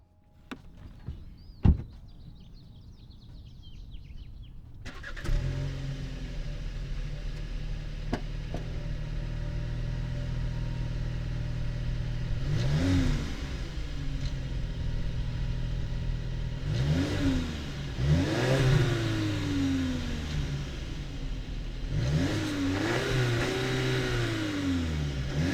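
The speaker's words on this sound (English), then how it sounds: "let's go ahead and fire up this little turbocharged 4-cylinder and see what it sounds like." A 2020 VW Passat's turbocharged 4-cylinder engine cranks and fires up after some faint handling noises, settles into a steady idle, then revs up in several rising and falling bursts, close and fairly loud.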